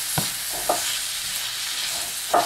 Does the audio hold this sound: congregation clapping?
no